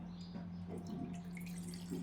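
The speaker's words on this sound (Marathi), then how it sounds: "आणि या डब्याने आपल्याला पाणी टाकायचं आहे" Faint water trickling and pouring into a metal pan for gulab jamun sugar syrup over a steady low hum, with no voices.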